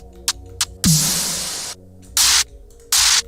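Short bursts of white noise are shaped as Pryda-style snare hits. Brief clicks lead into a loud hissing burst that decays, then two more crisp noise bursts follow, all dry and close with no talking.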